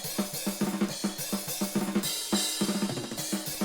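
Processed overhead drum mics from a rock track production, cymbals washing steadily over rapid, punchy kick and snare hits in a tight driving pattern, played alone with no voices.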